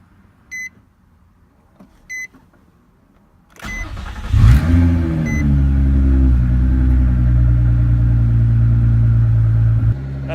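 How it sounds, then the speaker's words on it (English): A Nissan 350Z with a freshly installed starter motor cranks briefly after two short electronic beeps, then catches and settles into a loud, steady idle close by. "The starter sounded way better than it used to"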